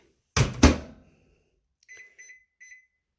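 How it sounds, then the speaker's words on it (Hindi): Two quick, heavy thuds are followed after a pause by three short, high electronic beeps from a microwave oven that has been having problems. The beeps are evenly spaced and clean against silence. "फिर माइक्रोवेव में प्रॉब्लम आ रही है, नया लेके आऊँगी मैं।"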